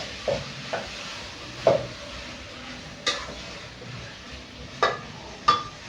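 Broccoli tipped into a pan on a home kitchen stove and stirred: a faint steady sizzle beneath a handful of separate utensil scrapes and clinks against the pan, close by and spaced irregularly, with no talking.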